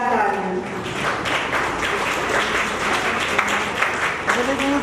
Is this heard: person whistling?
no